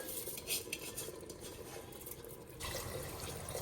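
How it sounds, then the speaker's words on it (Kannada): Rice being added to a pan of fried paneer, with soft scraping, stirring and clinks of a utensil against the pan, close and fairly quiet, growing a little denser near the end. "ಇವಾಗ ಅಕ್ಕಿನ ಹಾಕೋತಾ ಇದ್ದೀನಿ."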